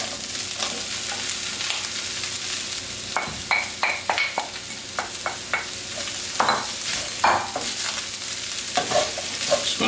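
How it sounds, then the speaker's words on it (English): Shredded cabbage being stirred with a spoon through hot mutton fat in a pan, a steady close sizzle broken by repeated scraping clicks of the spoon against the pan bottom, with no talk. "Just going to hit that a little stir just to make sure we start sort of deglazing the bottom of the pan here."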